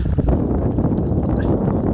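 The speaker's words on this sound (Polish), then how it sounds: "Wiatrzycho jest masakryczne, wieje, kapuśniak leci." Strong wind gusting over a lake during zander fishing in rain, a loud, continuous buffeting roar that fills the whole stretch with no pauses.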